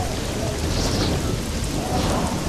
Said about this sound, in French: C'est la pluie qui commence?